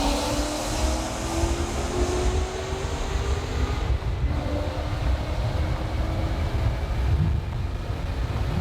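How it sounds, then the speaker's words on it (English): 2020 Chevrolet Corvette C8 cruising at 55 mph, a steady low exhaust drone with rumbling road noise, continuous and fairly loud from inside the car, with no talking over it. "that exhaust sounds so sick"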